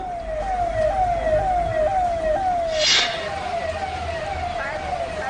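A fire brigade vehicle's siren wails in repeating rising sweeps on a flooded Mumbai street, loud and steady over engine rumble and traffic noise, with a brief horn-like burst midway.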